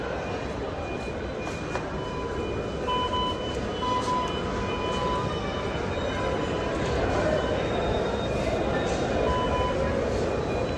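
A Delhi metro train at a crowded station, a steady loud rumble of rolling wheels with faint tonal whines and people talking in the background throughout.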